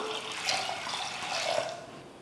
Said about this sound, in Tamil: கழுவி எடுத்துருக்கிற பருப்பை குக்கரில் சேர்த்துட்டு தேவையான அளவுக்கு தண்ணி சேர்த்துட்டு வேக வச்சுக்கலாம்